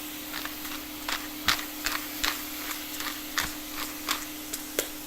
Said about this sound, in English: And we'll give a couple grinds of black pepper.